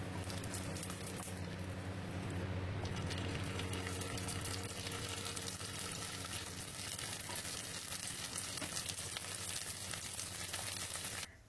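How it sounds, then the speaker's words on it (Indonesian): Samyang rice paper rolls fry in oil with a constant, close, busy sizzle and bubbling that holds steady for several seconds and then stops abruptly. "Dan ini sudah cukup digoreng sebentar saja."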